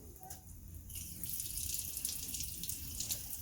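Water running and splashing as a boiler system is drained during a relief valve repair, a soft gurgle that grows into a steady flow partway through, fairly faint.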